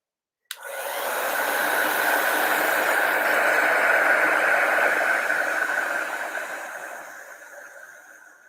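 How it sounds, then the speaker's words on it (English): Heat gun switching on with a click and blowing a steady, loud whooshing hiss that holds for several seconds before slowly fading, heard alone without speech. "I grab my heat gun out again."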